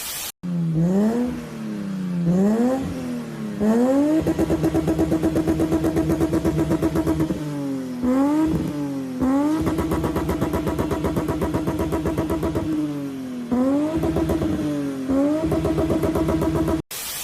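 A BMW E30 325i engine revs repeatedly, climbing in quick blips then holding high, rough and loud, with several throttle pulls and drops.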